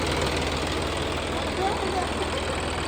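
A John Deere tractor engine idles close by with a steady, rough, knocking rumble through the silencer that holds constant throughout; the clutch is faulty and will not stop it.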